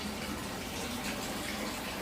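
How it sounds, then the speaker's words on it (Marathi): Water running from a tap for a bath, a steady, continuous gushing splash that stays at an even level for the whole short stretch. "पाण्याचं चालू करून देतो."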